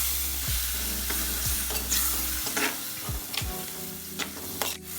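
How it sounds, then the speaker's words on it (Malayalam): Cleaned prawns, a quarter kilo, tipped into a hot pan for Kerala-style prawn curry, sizzling and frying steadily with clear stirring scrapes and clatters throughout, close and with no talk. "ഇനി ഇതിനകത്തേക്ക് നമ്മൾ വൃത്തിയാക്കി വെച്ചിരിക്കുന്ന ചെമ്മീൻ ഇട്ട് കൊടുക്കാം."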